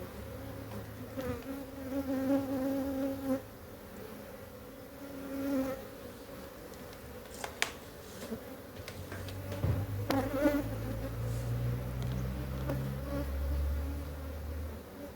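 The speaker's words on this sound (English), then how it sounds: "Then there is lots of bees. Lots of bees." Honeybees hum around a hive in a dense, continuous buzz, with individual insects droning louder as they pass close by.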